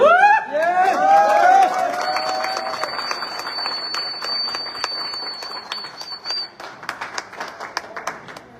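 Audience at a car delivery celebration breaks into loud applause that starts strong and gradually thins out into scattered claps, with voices calling over the top early on.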